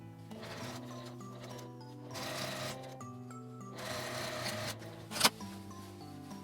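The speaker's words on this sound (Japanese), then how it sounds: "ミシンで縫っておきます。" A home sewing machine stitching a small cosmetic bag made of William Morris print fabric, closing the turned-under return opening; a steady, close mechanical whir with a short sharp clack near the end.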